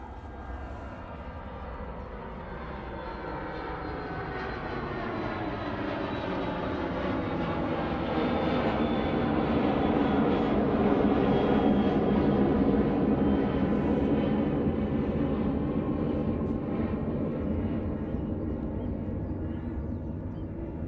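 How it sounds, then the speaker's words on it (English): A Cessna Citation business jet takes off from Manchester Airport, its engine whine sweeping downward in pitch as the roar builds steadily and holds loud near the end, heard alone. "Oh, citations going off to Cork"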